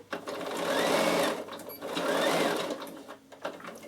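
A Bernina sewing machine fitted with a ruffler foot stitches fabric in two fast mechanical bursts, a close whirring clatter that pauses briefly between runs and ends in a few soft clicks.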